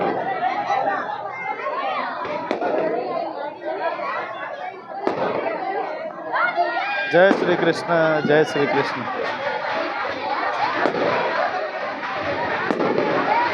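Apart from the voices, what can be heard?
firecrackers bursting at Tulsi Vivah celebration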